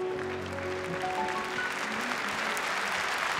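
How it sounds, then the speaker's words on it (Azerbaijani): A live audience claps steadily at a music performance, a dense continuous wash of applause with a sustained musical tone fading beneath it at the start. "Alqışlarınızla mən onu ifa eləyərdim."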